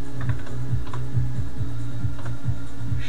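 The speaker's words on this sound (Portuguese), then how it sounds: "Você vai digitar assim:" Steady, close typing on a computer keyboard, keys clacking in a quick even rhythm with no voices over it.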